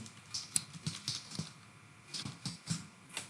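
Fingers type on a computer keyboard, a quick irregular run of close, light key clicks over about three seconds with short pauses, no speech.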